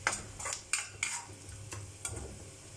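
A utensil stirs spices roasting in ghee in a pan for rasam, giving a handful of sharp scraping clinks against the metal over a soft, low sizzle.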